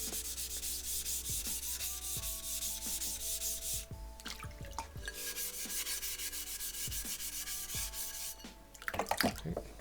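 Rust eraser block rubbed on a whetstone to lift metal load-up, giving steady gritty scrubbing strokes with a few brief pauses, close and fairly loud, ending in a flurry of quicker scrapes.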